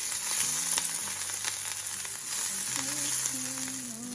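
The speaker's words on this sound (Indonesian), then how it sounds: "Setelah minyaknya cukup panas, kita bisa memasukkan buncis." Green beans fry in hot oil with a steady broadband sizzle and occasional stirring scrapes, a few low tonal hums running underneath, fairly loud and continuous with no talking.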